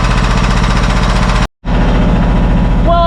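A snow blower roars loud and close with a rapid, pulsing engine beat as it churns through heavy, slushy wet snow. The din cuts out for an instant, then comes straight back at full strength.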